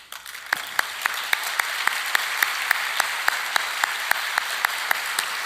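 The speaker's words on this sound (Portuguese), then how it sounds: "Eu pediria que ele levantasse para receber o aplauso e o carinho de todos nós." Seminar audience applauds in a steady, even wash, with sharp louder claps cutting through at regular intervals.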